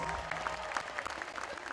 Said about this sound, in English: Big round of applause for all the moms in the audience.